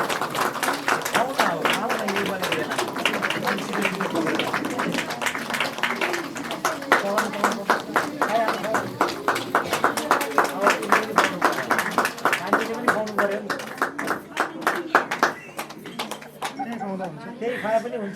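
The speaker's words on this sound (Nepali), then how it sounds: "ताली पड्काइदिनुहोस्, ताली पड्काइदिनुहोस्।" Wedding guests at a church wedding in Nepal clap in a steady rhythmic beat that carries on for many seconds, moderately close, with voices talking or singing over the clapping.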